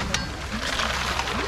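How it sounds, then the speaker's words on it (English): Water gushes out of a concrete trailer pump hose while 275 feet of line is primed, a steady close rushing wash that holds for about a second and a half with no break. "Here comes some water."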